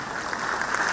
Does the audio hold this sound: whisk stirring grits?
no